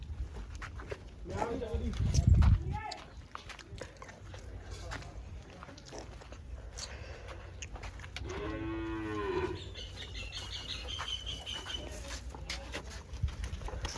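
A water buffalo gives a deep, drawn-out moo partway through, amid background chatter, shuffling and a brief loud thump near the start.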